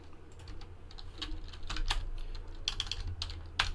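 Fingers tap steadily on a computer keyboard nearby, a run of quick irregular key clicks over a low room hum, with no talking.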